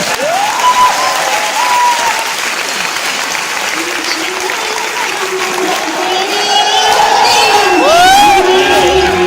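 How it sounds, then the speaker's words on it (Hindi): An audience at a trainer's life-changing motivational seminar bursts into loud, sustained applause with cheering and whoops, filling the room throughout. "ताली बजाओ।"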